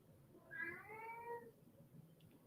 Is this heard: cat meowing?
yes